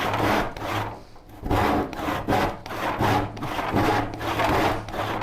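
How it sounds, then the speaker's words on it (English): A hand saw rips through wood in even back-and-forth strokes, about six rasping passes with brief pauses between, close and loud with no talking. "I'm not used to starting a low point saw. But once I get it going, it's going."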